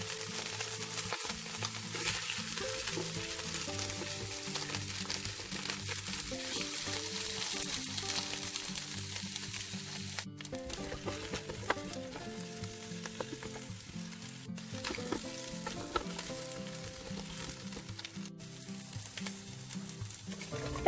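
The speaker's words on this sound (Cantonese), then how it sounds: "落我哋嘅雞骨同埋豬骨爆香" Chicken and pork bones stir-frying in a wok, a loud steady sizzle with stirring and tossing, broken by a couple of abrupt cuts in the hiss.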